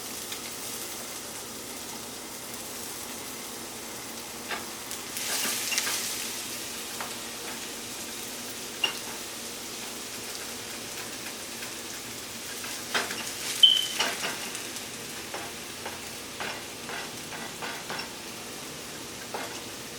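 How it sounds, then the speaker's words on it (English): Potatoes for hash browns fry in oil spread across a sheet pan, a soft, steady sizzle with occasional light clicks and scrapes of utensils, fairly quiet and without talk. "There goes my whole sheet pan of with potatoes"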